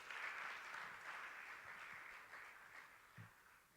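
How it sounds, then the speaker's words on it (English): Audience at a business school family business conference in Lagos applauding, a soft, distant patter of many hands that swells briefly then fades slightly, continuous and fairly faint. "Can we give him another round of applause"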